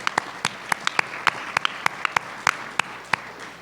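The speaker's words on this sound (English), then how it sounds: "let's give them a round of applause" Sparse applause in a meeting room at an AONL fellow designation session, a handful of distinct, sharp claps in uneven rhythm over a soft murmur of room noise, no voices.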